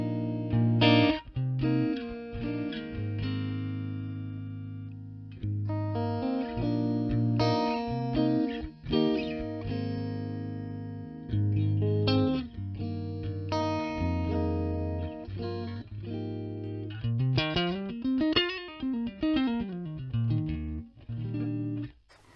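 A clean electric guitar plays chords and single notes through the normal channel of a 1965 Fender Pro Reverb amp, ringing with sustained tones, ending with a bending, swooping phrase.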